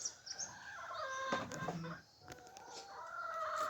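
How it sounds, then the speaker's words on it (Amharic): Chickens at a rural home farmyard, beside a tethered goat and sheep, clucking and squawking in overlapping calls, one bird crowing, fairly close but moderately quiet, with no talk. "ዶሮቿም እዛ ይንጫጫሉ።"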